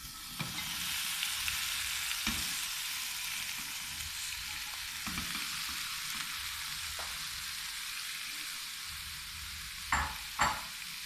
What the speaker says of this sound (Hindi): अब हम इसमें डाल देते हैं ये सारी चेरीज़।